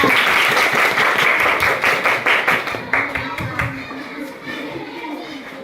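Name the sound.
applause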